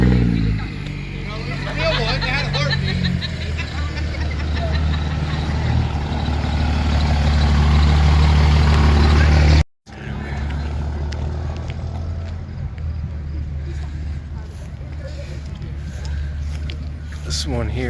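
A Whipple-supercharged truck at the Truckers 4 Hope 2026 show gives a loud, steady engine rumble close by, with crowd chatter around it. The sound cuts out sharply for a moment near the middle, then returns.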